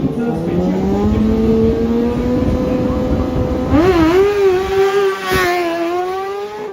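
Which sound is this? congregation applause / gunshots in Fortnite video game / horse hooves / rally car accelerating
rally car accelerating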